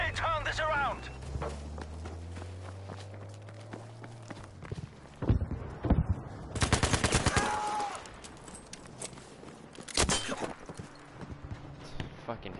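Submachine gun fire in a video game firefight, with several sharp bursts of rapid shots among footstep-like clatter and other game sounds, loud and close, while a voice talks over parts of it.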